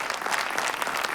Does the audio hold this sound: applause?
yes